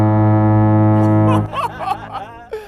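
A loud, deep blast from a giant horn sounds steadily for about a second and a half, heard from a distance, then cuts off as people laugh and chatter.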